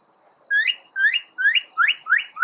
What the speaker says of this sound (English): Northern cardinal. Cheer, cheer, cheer.